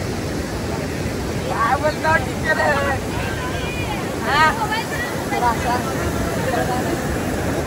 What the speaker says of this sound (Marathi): कसला भरून वाहतोय ना धबधबा